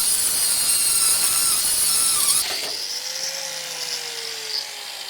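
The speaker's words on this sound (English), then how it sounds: "Grind it off." An angle grinder cutting the head off a seized exhaust nut on a Skoda Fabia 1.9 PD TDI: a loud, high, steady whine for a couple of seconds, then the disc spinning down in a falling whir.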